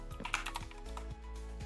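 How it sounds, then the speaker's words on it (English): Fast typing on a computer keyboard gives a quick, uneven patter of soft clicks, fairly quiet, with a low steady hum beneath and no speech. "Fast typing?"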